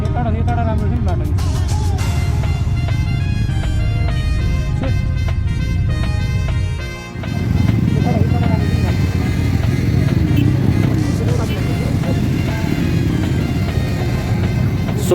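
Motorcycles on a group ride in Siliguri, India, heard as a loud, continuous engine drone and rumble with road and wind noise, dipping briefly midway before resuming at full strength.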